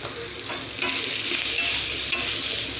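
Jackfruit curry with tomato being sautéed in a pan, a loud steady sizzle with stirring scrapes and small clatters, no talking.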